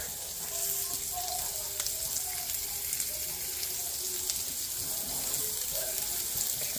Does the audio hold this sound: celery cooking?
yes